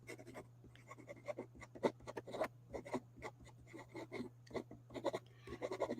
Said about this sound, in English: I got to write this down.